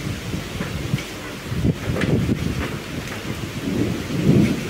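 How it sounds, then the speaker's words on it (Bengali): Thunder rumbling through a windy rainstorm at an outdoor Saraswati Puja gathering under a tent, low rolling booms over a steady wash of rain, with a heavier swell of rumble toward the end; no speech. "দেখেছো মেঘের শব্দটা শোনো"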